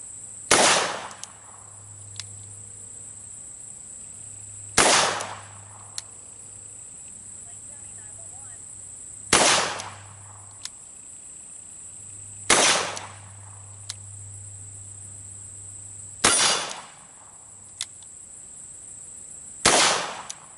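Webley MK VI revolver fired single action, five loud sharp shots spaced roughly four seconds apart, each followed by a short echoing decay, over a steady background hum and high-pitched insect-like buzz.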